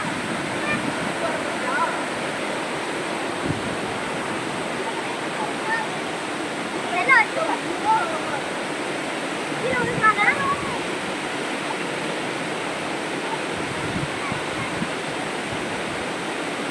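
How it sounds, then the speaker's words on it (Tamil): Koraiyar waterfall at Pachamalai, Tamil Nadu, roaring as a steady, broad rush of water throughout, with faint voices briefly audible beneath it. "இதான் கோரையார் அருவி. செம்மையாக ஃபால்ஸாக இருக்குது, வேறு லெவலில்."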